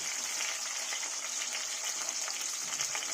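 Potatoes frying in a pan give off a steady, even sizzle with faint crackles throughout, close by and unbroken, with no talking.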